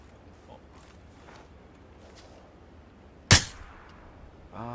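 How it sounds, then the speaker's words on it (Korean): A single sharp gunshot rings out in PUBG Battlegrounds mid-clip, a loud crack with a brief decaying tail over quiet game ambience, followed by a short mechanical clatter near the end. "이게 총소리 나는데?"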